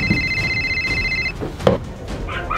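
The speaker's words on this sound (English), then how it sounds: "Wait, why is there a phone ringing in the oven, but you have that phone?" A red telephone rings with a repeated electronic trill that cuts off partway through, followed by faint indistinct voices and movement.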